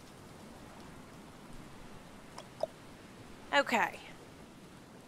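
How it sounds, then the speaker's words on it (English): Steady, even hiss of rain falling in the survival game Stranded Deep, with a brief spoken word and a couple of faint clicks late on. "Must be the rain."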